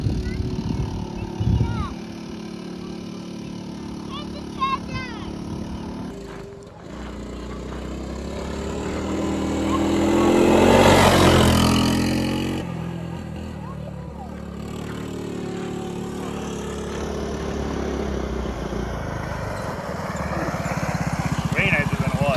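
Engine of a restored three-wheeler ATV idles and revs, building to a loud, rough pass around the middle and then trailing off as the machine rides away, with people talking throughout.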